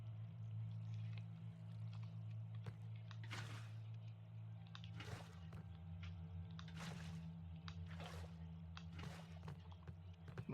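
Water poured from a bucket in Minecraft survival, heard as several soft splashing whooshes at intervals over a low, steady hum, faint overall.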